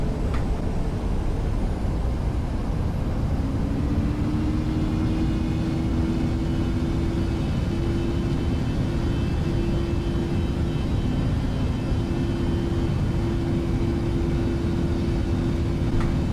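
Steady, loud jet engine roar of an airliner spooling up for its takeoff roll in the Prepar3d flight simulator, an Alaska Airlines flight departing Seattle runway 34 right, with a rising engine whine over constant rumble.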